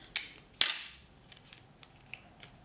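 Adhesive tape is pulled and pressed onto a paper rocket: two sharp ripping bursts, the second louder and trailing off, followed by faint light taps and rustles in an otherwise quiet room.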